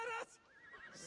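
A horse whinnies loudly in Assassin's Creed Valhalla, a single bright neigh lasting a fraction of a second, then trailing into quieter game ambience.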